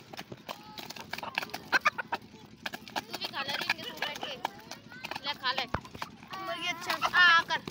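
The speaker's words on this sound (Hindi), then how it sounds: "मुर्गी बच्चे दाना खा रहे हैं," A hen and her chicks cluck and peep while pecking at grain, with busy, irregular calls close by and scattered scratching and pecking, mixed in with people talking.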